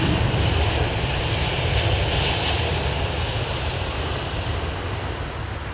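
Airbus A319 on a wet runway, a loud, continuous engine roar with hissing spray, fading slightly toward the end.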